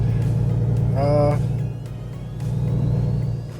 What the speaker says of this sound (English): This truck's a little loud.